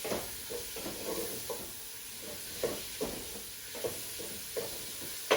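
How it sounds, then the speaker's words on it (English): Cubes of beef stew meat browning with onions in a pot on a stove at its highest setting, giving a steady close sizzle broken by repeated soft knocks and scrapes of stirring. "I'm going to add a quarter or so of the cubes and just brown them for a minute"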